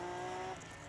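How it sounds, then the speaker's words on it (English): A drift car with an S54 BMW engine of 300 brake horsepower at full throttle around the Teesside Autodrome circuit, a short loud burst of high steady engine tone and tire squeal that fades after half a second. "full throttle, shredding tires around this Teesside Autodrome circuit"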